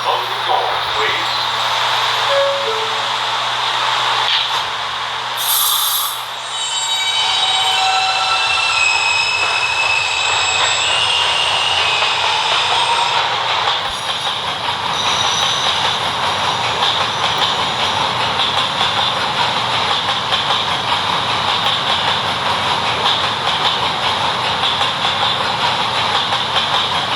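PTA B train running on the line, heard from on board: rumbling wheels and rail noise with a brief high squeal and door or brake sounds early on, then a steady ride.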